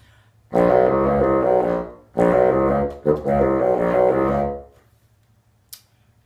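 A bassoon plays a short legato five-note phrase in three sustained bursts, the second and third almost joined, loud and close with no voices.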